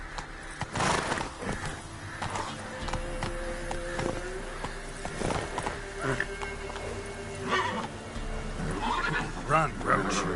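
Roach the horse in The Witcher 3 whinnies loudly several times while hooves clip-clop at a gallop, with game ambience and other noises layered over the ride.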